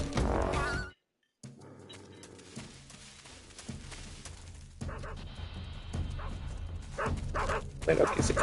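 A dog barks and yips in the stealth video game Metal Gear Solid 3, with short bursts over game music and effects, plus a brief dropout near the start.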